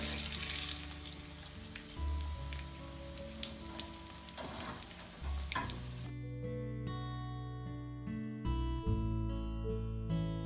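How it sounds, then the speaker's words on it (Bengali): Hand-shaped tuna fish kababs bound with boiled potato deep-frying in hot oil in a kadai over low heat, a close, continuous crackling sizzle that music joins and partly covers in the second half. "এখন আমরা কাবাবগুলো দিয়ে দিব"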